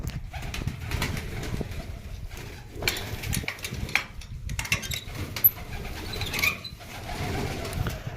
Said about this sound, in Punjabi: ਆ ਜਾਂਦੇ ਆ ਕਬੂਤਰ ਆਪਣੇ ਦੇਖੋ